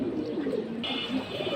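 Racer pigeons cooing up close, a continuous low throaty burble with rolling pulses lasting the whole moment, no talking.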